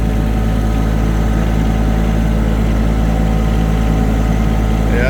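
A small farm tractor with a front bucket idles steadily while towing a trailer along a narrow path beside a fence, a constant close low rumble with a faint high whine near the end.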